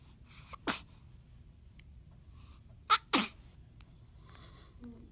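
A baby sneezes three times, a single sharp sneeze followed by two quick ones close together. All three are close and distinct against a quiet indoor background.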